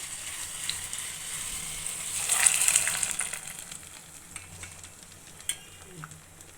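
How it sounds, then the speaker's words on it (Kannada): Soppu sambar, a lentil stew with greens, bubbles and sizzles steadily in a pot at close range. The simmer swells briefly in the middle, with a few soft pops and stirring sounds and no talking. "ಸಾಂಬಾರು ಕುದೀತಾ ಇದೆ"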